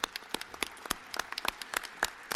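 Scattered, sparse clapping from a small group at a season-ending basketball banquet, individual sharp claps spaced irregularly and fairly quiet.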